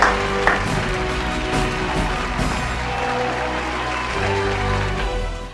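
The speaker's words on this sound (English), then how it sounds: "let's give her a big round of applause" An audience at the Girl On Fire pre-event show claps in a dense, steady wash of applause that carries on throughout at moderate loudness.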